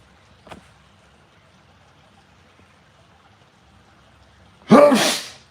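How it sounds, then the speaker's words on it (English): After a quiet pause with a brief breath, a single loud, sharp sneeze bursts out close by near the end. "Well, I gotta sneeze."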